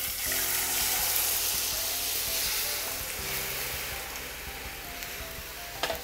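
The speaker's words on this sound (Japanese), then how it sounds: "しっかりここまでいったのでお水が入ります" Water pours into a frying pan holding cooked bacon, giving a loud, close hissing sizzle with splashing and bubbling that stays steady and then eases slightly.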